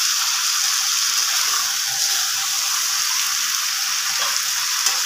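Chicken meat sizzles and fries steadily in a pan while being slow-cooked with spices, a dense, continuous crackle that holds close and even throughout with no talking.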